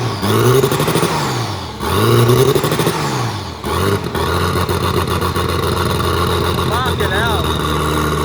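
A turbocharged L28 engine in a Datsun 280ZX revs under throttle, rising and falling in repeated sweeps before settling into a steady, loud idle nearby, with voices briefly heard over it.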